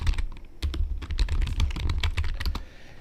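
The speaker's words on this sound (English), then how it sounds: "You guys can hear me typing." A computer keyboard typed on fast and steadily at close range, a dense run of crisp key clicks with no pauses and no speech over it.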